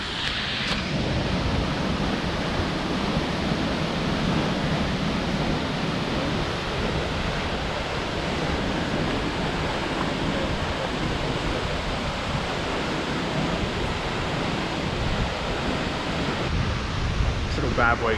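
A waterfall in tropical far north Queensland pours as a steady, dense rushing roar that fills the whole stretch, with no pauses and no clear voices.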